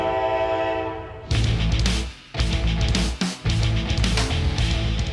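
A freight train rolls through the Folkston Funnel rail junction in Georgia, with a sustained horn blast at first, then loud, heavy rumbling and clanking of passing cars close by.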